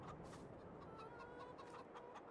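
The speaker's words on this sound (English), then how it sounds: "Hey, quiet down, chickens." Chickens clucking on a farm in Farming Simulator 22, a busy overlapping chorus of clucks and squawks, steady and close with no one talking.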